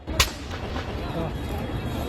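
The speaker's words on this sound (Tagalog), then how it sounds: "Maririnig din ang mga pagsabog." Explosions from burning parked cars in a parking area fire at NAIA Terminal 3, a sharp loud blast near the start followed by a sustained roaring, crackling rumble of the blaze with faint voices underneath.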